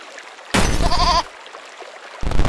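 Goat bleats in a glitchy video game, one loud wavering bleat lasting about half a second, followed by a pause and the start of another.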